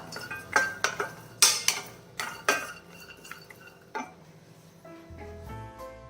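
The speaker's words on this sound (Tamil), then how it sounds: "பலாக்கொட்டை வந்து 10 நிமிஷமாக வறுத்துட்ருக்கிறேன். சவுண்டு வருது பார்த்தீங்களா, கலக்கலன்னு." Jackfruit seeds dry-roast in a pan over medium heat, sending out irregular clinking rattles and scrapes that come in clusters and then thin out, heard close with no talk.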